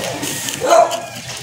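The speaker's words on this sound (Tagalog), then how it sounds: "Aso." A dog lets out a single short bark, fairly close, with quiet market-stall background noise around it.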